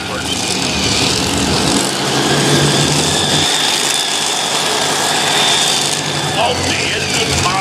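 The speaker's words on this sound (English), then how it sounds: "Multi-engine modified tractor puller. Plug those ears, guys." A multi-engine modified tractor puller roars at a county fair tractor pull in Sandwich, Illinois, a loud continuous mechanical blast with a steady, dense engine drone that never lets up.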